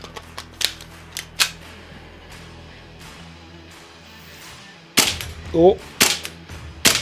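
A Tokyo Marui Glock 34 airsoft pistol fires at targets with sharp, snappy cracks, a few spaced shots and then a quicker burst, close and loud, with a brief spoken exclamation between them.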